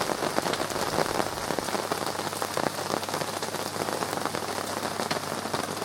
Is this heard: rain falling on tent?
yes